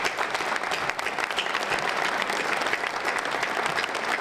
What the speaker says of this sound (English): let's give a round of applause to all the workers that made this happen